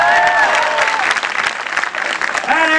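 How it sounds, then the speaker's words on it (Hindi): Loud audience applause at a comedy show, dense clapping with crowd noise and a voice or two rising over it, running steadily throughout. "जोरदार ताली बजाओ बिन के लिए।"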